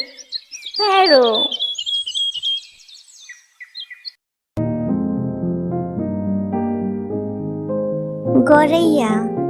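A sparrow chirps in a burst of bright, close tweets in a kids' bird-names lesson. After a brief pause, a long, steady tonal voice-like sound follows.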